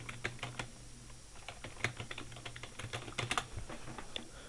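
Computer keyboard keys tapped in uneven bursts while typing into a Google browser, close and fairly quiet, with irregular clicks and short pauses over a low steady hum; no talking.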